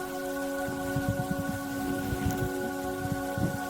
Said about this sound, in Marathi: रिम झिम रिम झिम खूप मस्त पाऊस वाटत होता.